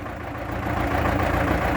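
A T-25 tractor engine runs steadily at close range while its two-section hydraulic distributor lifts, a dense, rough mechanical drone that swells slightly in loudness, with no speech over it.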